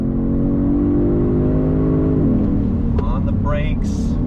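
A 2022 Genesis G70 sport sedan's engine pulls hard on throttle along a twisty road, a loud steady drone rising in pitch and then dropping as it shifts, with whooshing wind and faint clicks near the end.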